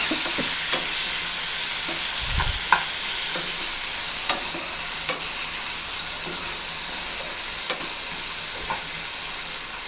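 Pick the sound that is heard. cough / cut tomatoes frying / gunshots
cut tomatoes frying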